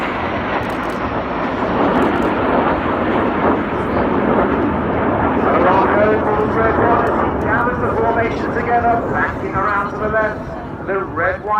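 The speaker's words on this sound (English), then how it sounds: "here they come from the left. Red 1 leading the 7 aircraft in" Red Arrows jets, seven aircraft in formation at an air show, roaring past as a loud, sustained, rushing engine wash that swells and then fades, under steady commentary.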